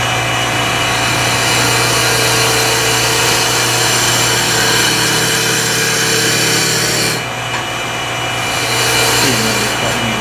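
A wood lathe spins steadily while a turning tool makes a shearing cut, giving a loud continuous motor hum with a broad hiss of tool contact that briefly dips near the end.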